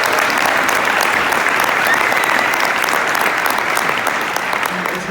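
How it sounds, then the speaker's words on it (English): Loud, sustained audience applause at a senior roast, a dense wash of many hands clapping steadily for about five seconds, with scattered crowd voices mixed in. "Let's hear it for Danny Becker, everybody"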